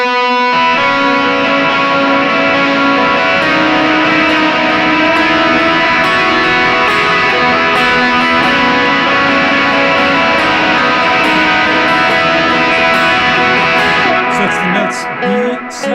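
A loud, sustained electric guitar with heavy distortion rings out in thick, buzzing chords, holding steady for a long stretch before a brief break near the end.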